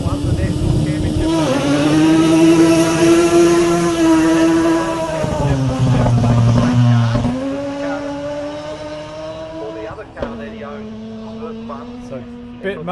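A Mazda RX-7 rally car launches hard off the start line and climbs uphill at a forest rally sprint, its loud engine revving high and rising through gears before easing off, then pulling again.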